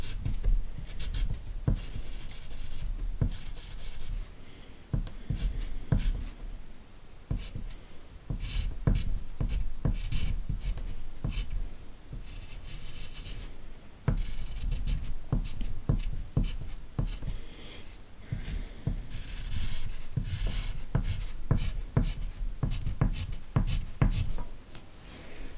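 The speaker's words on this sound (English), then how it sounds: "I'm going to draw a little picture of myself in the window." A pen scratches across paper while drawing a small picture, producing continuous close scribbling strokes in short irregular bursts with brief pauses throughout.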